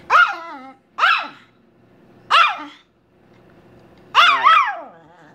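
A hungry female dog barks loudly at dinner time, four separate bursts at about one-second gaps with a double bark at the end, close to the microphone and with no talking.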